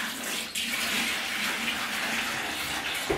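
Dirty rinse water from a paint sprayer pours out of a bucket in a continuous, close gushing splash that stays steady throughout.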